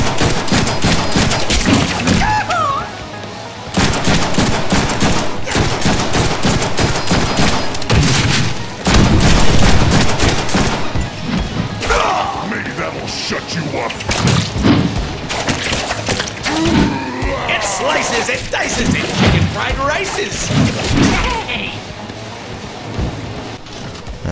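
Gunfire and explosions in the Deadpool video game, dense and loud, with continuous rattling shots and booming blasts filling the scene with barely a pause.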